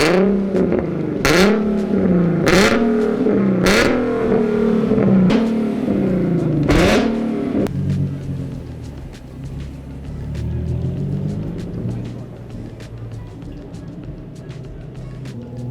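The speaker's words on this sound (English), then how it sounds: "Yeah, if you could just go ahead and rev it, do a little show." A Nissan 370Z engine revs hard several times in a row, each blip climbing and falling sharply, then settles into a lower, rougher rumble as the car pulls away, loud and close.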